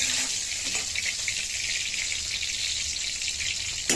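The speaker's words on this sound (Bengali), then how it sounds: "মাথাটা বেশ সুন্দর লাল লাল করে ভাজতে হবে" Fish heads frying in oil in a pan, a steady bright hiss and crackle held at an even level throughout, with a couple of faint clinks early on and no speech.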